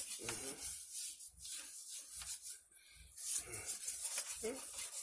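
Hands rub seasoning into a large piece of fish before smoking, making repeated close, soft scrubbing strokes in an uneven rhythm with brief pauses between them.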